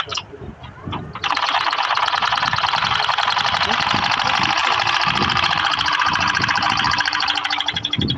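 A sewing machine stitches the folded end of pant fabric with a dense, steady run of rapid stitches. It starts abruptly after a short pause and continues loud and close for several seconds.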